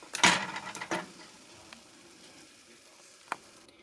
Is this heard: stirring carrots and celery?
yes